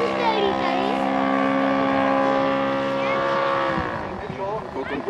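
A four-stroke V-twin engine powers a 1:3.8 scale Fokker D.VII model aircraft, its steady droning roar loud and sustained before easing off slightly near the end.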